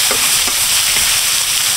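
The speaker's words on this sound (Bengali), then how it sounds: "আলুগুলো একটু সুন্দর করে কষিয়ে নেব" Potatoes sautéing in a pan, a loud, dense, hissing sizzle close up with a few soft stirring knocks, steady and continuous throughout.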